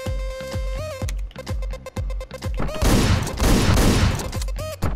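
Shotgun blasts and gunfire in the Hotline Miami video game: a rapid series of loud, punchy booms, then a denser burst of crashing, noisy shots near the middle, with game music tones between the hits.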